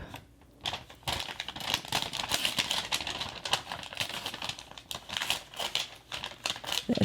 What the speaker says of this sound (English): Let's go ahead and rip this up.